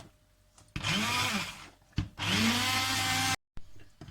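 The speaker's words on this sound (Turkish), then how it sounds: "Ben çubuk blender kullanacağım" Two loud bursts of a hand-held immersion blender whirring through hot, still-boiling garlic vegetable soup, separated by a brief pause, then the motor cuts off abruptly into quiet.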